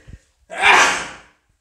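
A single sharp sneeze bursts out loudly after a brief faint intake of breath, then fades to silence.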